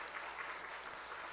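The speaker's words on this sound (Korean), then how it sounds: "우리 다시 한번 박수 한번 격려하겠습니다." Church congregation at a Sunday afternoon service gives an encouraging round of clapping, a soft, distant, continuous patter of many hands heard alone.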